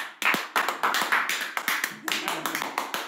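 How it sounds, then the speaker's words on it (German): Several people clap their hands loudly, a burst of quick irregular claps lasting a few seconds, close by. "Klatsch mal alle ganz laut."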